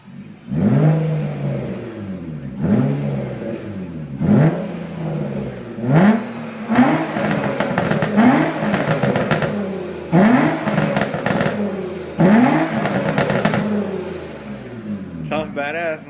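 Nissan Maxima engine revving through its aftermarket exhaust, about half a dozen repeated throttle blips that rise and fall, loud and close, with voices nearby.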